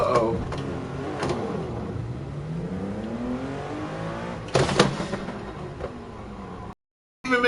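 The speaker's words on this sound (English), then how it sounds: "Even makes a transmission grinding sound now" Car engine revving with transmission grinding in Gran Turismo Sport during a drag start, a rising and falling engine drone with sharp crunching bursts, steady and fairly loud, with a brief cutout near the end.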